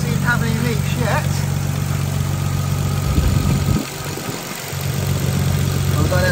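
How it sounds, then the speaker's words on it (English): A Nissan Skyline R33 engine idles steadily and close by, a low even rumble that drops briefly in level near the middle before settling back; a voice talks over it at times. "just had the car running for like 20 odd minutes"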